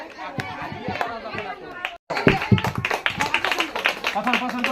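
Audience members clap in scattered bursts at a spicy panipuri eating challenge, the claps mixed with loud crowd chatter and a host talking over them, with a brief dropout midway.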